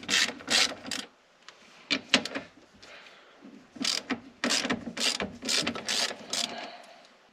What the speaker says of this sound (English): We're gonna start by removing these two 13 millimeter bolts that hold this into the shifter